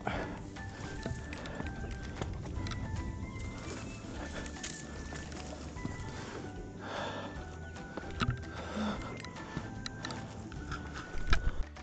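Horses' hooves clop at a horse riding ground on a Hong Kong countryside trail. The clops come as faint, scattered knocks mixed with bird calls and occasional distant voices.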